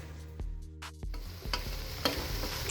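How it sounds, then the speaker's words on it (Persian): Ground meat fries in a pan with ground bell pepper and onion, giving a brief, close sizzling hiss that swells after a quiet start, with a couple of faint stirring knocks. "اینم فلفل دلمه و پیاز که آسیاب کنم و بریزم با گوشتش که با هم سرخ بشه"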